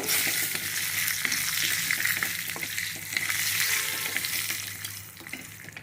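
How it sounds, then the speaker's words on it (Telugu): Nigella seeds (kalonji) frying in a pan with chillies, a steady close hiss and sizzle of hot oil with faint stirring scrapes throughout, easing slightly near the end, no voices. "ఇప్పుడు మనం దీన్ని వేయించుదాము"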